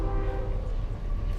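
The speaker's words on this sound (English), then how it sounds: "I got a train going by." A train goes by close and loud, a steady rumbling roar with a tonal horn-like drone running through it, heard on its own without talk.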